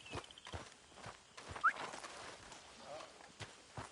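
Horse hooves clip-clop on the ground at a camp in Red Dead Redemption 2, several quiet, spaced hoof strikes over soft outdoor ambience, with brief game voices talking.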